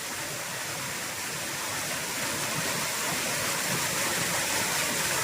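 A shallow stream rushes against a person's legs while they fish, making a continuous close, loud roar of moving water that is steady and unbroken, with no talking.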